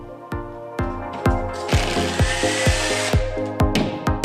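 A power drill bores holes into a wall for mounting rails, with repeated short whirring bursts, some tapping contacts, and a longer sustained drilling run near the middle, all close and loud.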